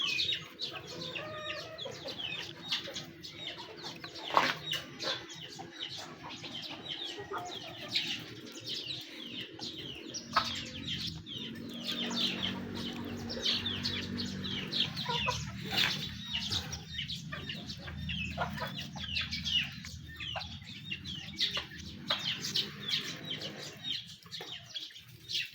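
Backyard chickens squabble over feed, clucking and squawking steadily near and far, with smaller birds chirping throughout and no voices over it.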